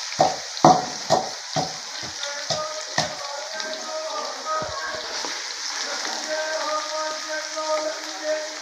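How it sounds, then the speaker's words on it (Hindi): Spices for tempering fry in hot oil, sharp crackles and pops bursting in the first few seconds, settling into a steady sizzle with faint scraping underneath. "तो अब मैं तड़का बना लूँ जल्दी जल्दी।"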